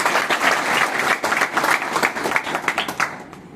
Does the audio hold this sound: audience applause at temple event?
yes